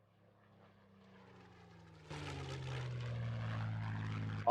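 A Hawker Hurricane propeller engine in a Roblox game, a faint drone that builds and then jumps abruptly louder into a steady rumbling roar.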